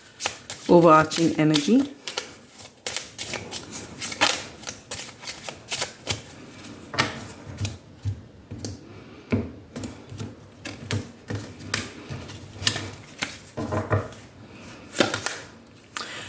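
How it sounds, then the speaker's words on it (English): Card shuffling from a Lenormand deck, a quick riffle of crisp paper flicks early on, then scattered soft card handling under steady talking. "I'm using the Lenormand deck to take out one card"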